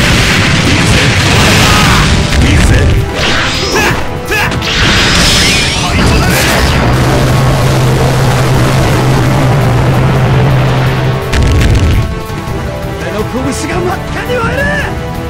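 An explosion in the KOF MUGEN fighting game, a dense burst of crashing, booming effects layered under game music and character voice clips, continuing loudly throughout.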